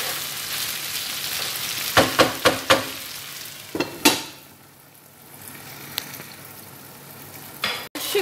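Meat frying in a pan for a lahm dish, a steady sizzle throughout, with several sharp clatters of stirring or scraping, no voices.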